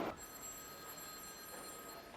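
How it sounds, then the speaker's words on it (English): A telephone rings in a film scene aboard a subway car, a faint electronic trill bursting at the start and again briefly later over a quiet, tense background hum. "I have to answer that phone"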